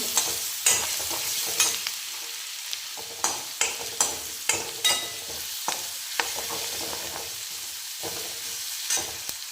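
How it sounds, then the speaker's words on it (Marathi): Dal and spinach mixture being sautéed with coriander powder, a low sizzle broken by a regular series of sharp spoon scrapes and taps against the pan, no one speaking. "आता यामध्ये धनिया पावडर टाकून घेऊया. त्याला पण छान परतून घेऊ."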